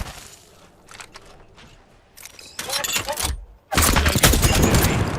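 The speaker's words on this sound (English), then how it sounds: "The enemies are shooting." Enemy gunfire in the Apex Legends battle royale game: scattered bursts build into loud, dense volleys of shots in the second half, with bright crackling impacts and no talk over it.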